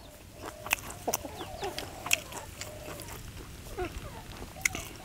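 Chickens cluck and squawk nearby in short, irregular bursts at an outdoor lunchtime meal where catfish is being grilled. Sharp peaks stand out over low background noise, and there is no clear talking.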